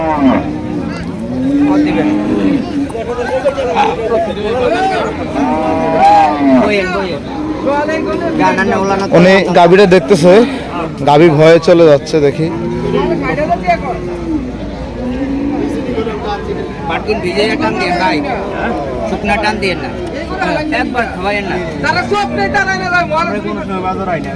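A Holstein Friesian cross cow at a busy cattle market in Cumilla lets out repeated loud, close moos, heard under and between constant nearby talking and crowd babble.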